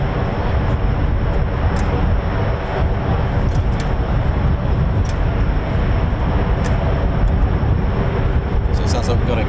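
A KC-135 tanker and an MC-130J military aircraft at RAF Mildenhall: a steady, broad engine roar holding loud through the whole clip, with brief clicks on top and a voice talking beneath.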